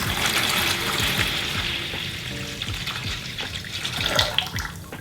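Bleach poured into a container for a clothing dye project, a steady liquid splashing and trickling through the whole stretch, fairly close and continuous, with no talk.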